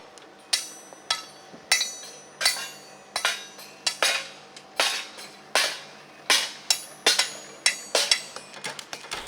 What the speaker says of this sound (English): Even a pneumatic hammer on wheels.